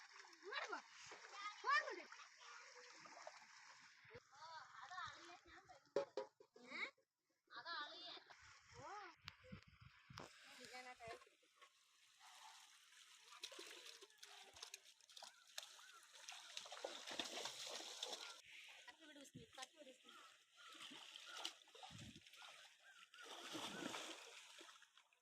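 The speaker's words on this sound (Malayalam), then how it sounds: "ഇനി നമ്മൾ പോത്തുകളെല്ലാം കുളിപ്പിക്കാൻ ഇറക്കണം" Water splashes repeatedly as young buffaloes are bathed, in irregular bursts near and far, while people, including children, talk over it almost the whole time.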